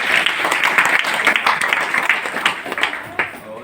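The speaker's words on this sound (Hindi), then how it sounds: "एक बार उन सभी लोगों के लिए जोरदार" An audience at a DXN business opportunity meeting in a Patna meeting hall applauds, with a lively burst of crowd clapping and distinct sharp claps that thins slightly toward the end, voices faintly underneath.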